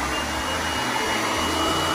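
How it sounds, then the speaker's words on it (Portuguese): A hair dryer runs steadily at close range during a cleaning hack test, a loud constant whooshing airflow with a mechanical whine that fills the whole clip without pause. "Eu vou estragar um secador."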